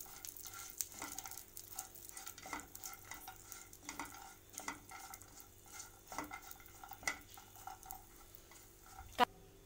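Dry fruits roasting in a pan for a Janmashtami bhog, with a spoon scraping and stirring in repeated strokes over a faint, steady sizzle and occasional clinks of metal; one sharper knock near the end.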